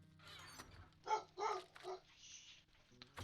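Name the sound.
dog barking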